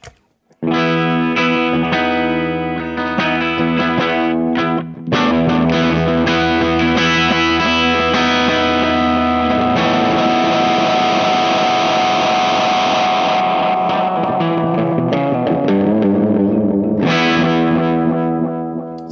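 HangmanFX Meteoric Echo Monster lo-fi delay pedal with dual modulation, heard as a loud, continuous distorted instrument tone with swirling repeats that briefly drops out mid-phrase and swells back, played alone without talk.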